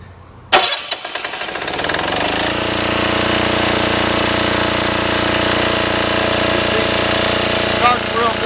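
A MEP 531A 2kW diesel military generator cranks briefly, catches and settles into a loud, steady running drone that holds close and unbroken for the rest of the clip.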